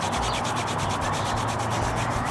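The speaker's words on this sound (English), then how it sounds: "And then you're gonna rub to activate the glue." Fingers rub briskly back and forth over kinesiology tape laid on skin, making a continuous close, rhythmic scratchy friction with no speech.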